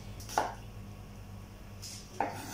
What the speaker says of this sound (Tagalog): Roughly chop lang natin yung garlic natin.